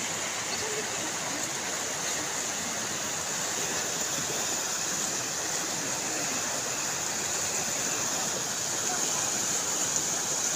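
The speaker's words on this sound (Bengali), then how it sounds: "নদীর আওয়াজ দেখছো, নদীর আওয়াজ," Snowmelt river rushing through the hills, a constant broad roar of flowing water that stays even and fairly distant throughout, with no voices over it.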